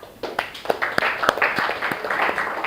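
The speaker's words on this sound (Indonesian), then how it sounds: "Oke, sudah tepuk tangan semua" A classroom of students claps together during a Microsoft Excel data lesson, a scattered, uneven patter of hand claps building and holding steady at moderate volume with no talking.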